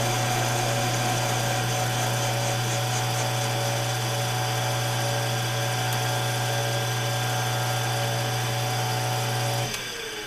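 An old, cheap lathe cuts a new cam bearing installation tool for a Farmall Super M engine, a steady loud mechanical whine and hum with a low drone that drops off abruptly near the end as the cut finishes.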